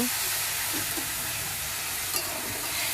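Softened potato and fried masala being stirred in a hot pan for a katla fish curry, a close, steady, even frying hiss with faint scraping, continuous for the whole stretch with no voices.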